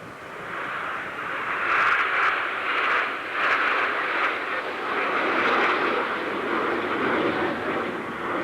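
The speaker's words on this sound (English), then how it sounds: "the aircraft is capable of 485 knots as its maximum speed" Aircraft flying at an airshow: a steady, loud propeller-engine drone held throughout with slight swells in level, sounding at moderate distance with no voices.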